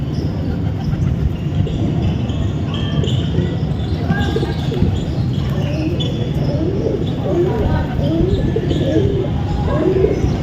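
Pigeons coo softly and repeatedly over a steady background hum, with a few chirps mixed in.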